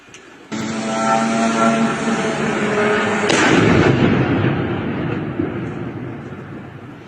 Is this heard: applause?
no